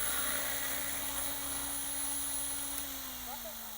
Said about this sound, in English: You hear much more from the rotor blades, and this sound is for me music.